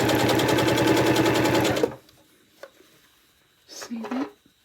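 A sewing machine stitching fabric for a scrunchie, a fast, even mechanical rattle close by for about two seconds, then stopping, followed by quiet handling noises and a brief voice.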